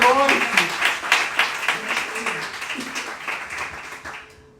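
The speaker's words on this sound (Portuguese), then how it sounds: "Se você crê, aplauda o Senhor com o seu melhor essa noite." A church congregation applauds during an evening service, a dense wash of many hands clapping that slowly fades out, with a preacher's voice speaking over it.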